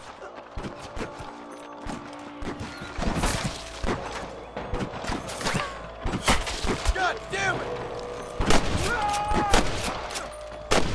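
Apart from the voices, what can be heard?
gunfire shootout in video game Red Dead Redemption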